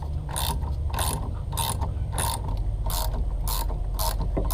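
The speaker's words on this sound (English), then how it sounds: "I'm almost done removing this top nut" A ratchet wrench loosening the top nut of a Mk4 Jetta shock absorber, giving loud rapid clicking bursts in a steady rhythm about every half second over a low mechanical hum, with no talking.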